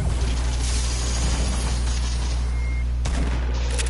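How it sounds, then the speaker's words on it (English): Gunfire in an online shooter video game, dense continuous loud shooting with a heavy low boom throughout and a sharp extra blast near the end. "get your gun and start shooting"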